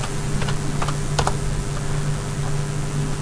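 Light, irregular clicks of a computer keyboard being typed on at close range, a few keystrokes in quick clusters over a steady background hum.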